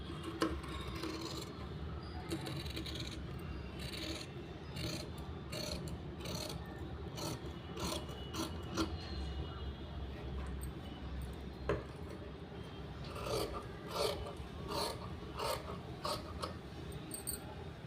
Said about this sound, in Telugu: ఇప్పుడు ఈ హ్యాండ్ మనం ఏ విధంగా మార్కింగ్ చేసామో అదే విధంగా మనం కటింగ్ అనేది చేసేసుకోవాలి